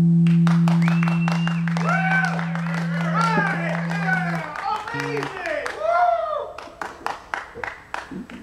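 Audience applause and cheering after a love song at an Equinox gathering, hands clapping in a dense wash that thins into scattered claps toward the end, with a held sung note and voices heard over the start.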